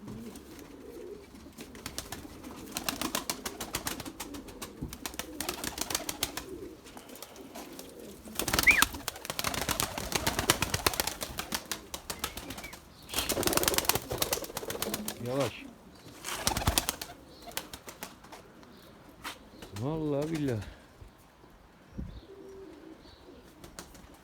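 Pigeons cooing in a garden coop, several soft repeated coos with brief wing flaps and rustles, someone talking at times between the calls.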